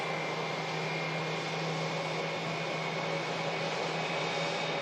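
A steady, loud roar of an Airbus A380 airliner on approach to Manchester Airport, a continuous engine drone with a faint whine that holds constant throughout, heard outdoors with no voices.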